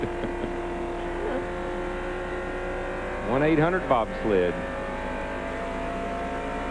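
Race cars in the 1995 Slick 50 150 Busch Grand National race at New Hampshire International Speedway drone steadily on a wet track, engines humming in the background under a commentator's talk and a brief rising engine whine.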